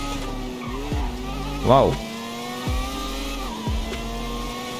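Race car speeding off in GTA 5, engine droning steadily with a few sharp rising revs and a brief tire squeal or skid, close and moderately loud, with a short spoken exclamation.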